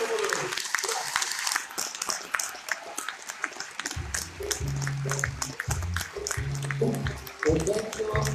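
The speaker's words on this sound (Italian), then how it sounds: "Un applauso." Audience applause in a cinema-theatre in Agropoli, scattered clapping and crowd noise mixed with talk, followed by a loud, rhythmic low musical pulse starting partway through.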